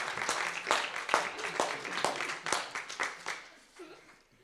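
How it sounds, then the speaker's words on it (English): A conference audience at an animation and visual effects presentation bursts into quick, crisp clapping that fades out after a few seconds, with a voice faintly present alongside. "come on, give him applause."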